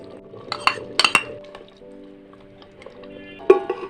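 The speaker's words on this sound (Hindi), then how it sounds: "मैं ढक्कन रख रहा हूँ" A metal lid set onto a cooking pot of simmering matar aloo handi, with a few close clinks and clanks early on and one sharper knock near the end, over a quiet kitchen background.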